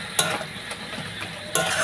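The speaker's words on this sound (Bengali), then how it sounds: "তো বন্ধুরা, মশলাটা ভালো করে কষিয়ে নিচ্ছি" Onion, tomato and spice masala sizzling in a pan over a clay earthen stove while being stirred, a steady frying hiss broken by a few sharp scrapes of the spoon, close and alone.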